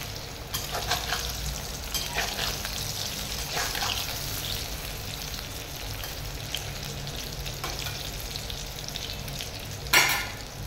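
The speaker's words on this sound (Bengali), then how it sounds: "একটু উল্টে পাল্টে ভেজে নিতে হবে।" Eggplant pieces fry in a pan for begun bahar and are flipped now and then. A continuous close sizzle is broken by scraping turns and a sharp clatter near the end.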